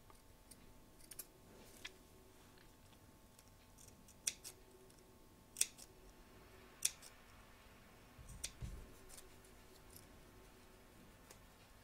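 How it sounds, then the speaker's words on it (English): Scissors snip close along the stitch line of a fabric edge on a Dylan Bunny soft toy, a handful of sharp, quiet cuts spaced irregularly over a faint background. "we're going to cut close to the stitch line without cutting it"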